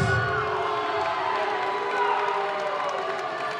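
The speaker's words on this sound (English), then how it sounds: "As you can hear, the crowd does not like the sound of the results here" A fight crowd roars and jeers at a disqualification result, a dense, sustained wash of shouting and whooping voices at steady loudness.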